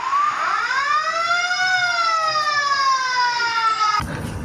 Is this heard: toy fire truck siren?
yes